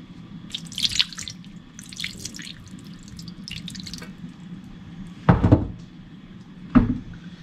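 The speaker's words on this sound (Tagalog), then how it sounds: "Lagyan natin ng sabaw ng pinya." Pineapple juice splashes into a pan of chicken adobo with soy sauce, giving two short liquid pours after a stretch of faint clinks and dripping, close and moderately loud.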